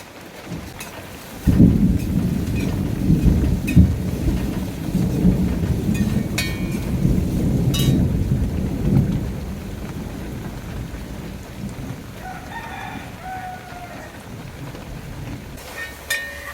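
Steady heavy rain roars with a deep rumble of thunder rolling underneath, easing slightly toward the end while the downpour continues.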